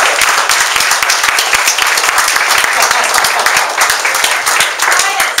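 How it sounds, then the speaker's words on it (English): A crowd at a holiday networking gathering in Tracy, California, gives a round of applause, loud sustained clapping with sharp individual claps cutting through while voices carry on over it. "Give Steve a big round of applause!"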